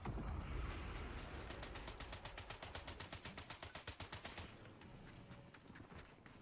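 Rapid automatic gunfire in the video game Fortnite, a fast, even train of sharp shots lasting a few seconds and then thinning to scattered single cracks, with no talk over it.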